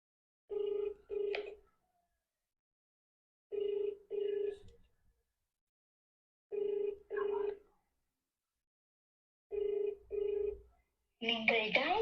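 A telephone line sounds a repeated double-beep tone pattern after a dialed number turns out to be busy. Four evenly spaced pairs of steady tones ring out clearly, and a voice cuts in right at the end.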